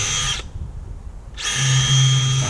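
A cordless power drill whirs loudly while driving fasteners into a new gate at a rental house, a short burst that cuts off for about a second and then starts again, revving steady.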